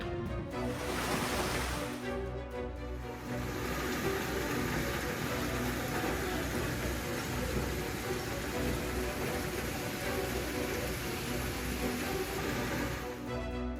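A severe hailstorm batters Paris, a dense, continuous clatter and hiss of falling ice on surfaces, fairly faint and steady with a short break near the start.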